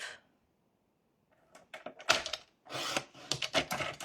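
Paper cut with scissors for a handmade folded pop-up card, a few close crisp snips and rustles that follow a short silence.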